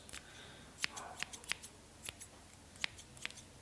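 Freshly sharpened steel or titanium hairdressing scissors snip through a small lock of hair, giving about eight crisp, light clicks spread unevenly over a quiet background with faint soft whispering.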